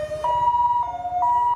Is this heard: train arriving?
no